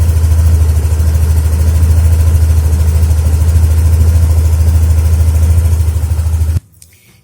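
A Yamaha Nmax Neo S scooter engine idles steadily with a low, even throbbing hum and a rough texture, heard close and loud, then cuts off abruptly near the end.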